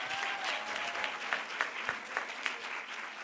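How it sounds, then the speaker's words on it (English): An audience at a women-in-media talk applauds a speaker, giving a continuous, moderately loud patter of many hands with a few sharper individual claps standing out toward the end. "A big round of applause for Dr."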